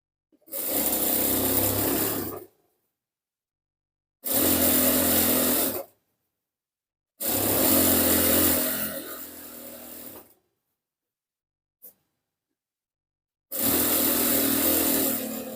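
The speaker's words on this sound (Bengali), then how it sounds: "আমরা প্রথমে 1/2 ইঞ্চি পরিমাণের কাপড় এভাবে মুড়িয়ে আমরা সিলি করে নিব" A sewing machine runs in four loud whirring bursts of about two to three seconds each, separated by silences, as it stitches a half-inch folded hem of fabric for a churidar pajama. It is close and heard alone.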